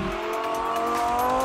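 A Lamborghini Gallardo engine drones steadily close by as the car drives, a smooth, sustained hum with no break through the short moment.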